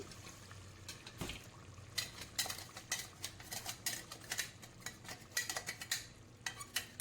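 Ground rice being stirred into a frying pan for a cellgam dish, with repeated scraping and clinking of a utensil against the pan in an irregular rhythm, close and fairly quiet, with no talk.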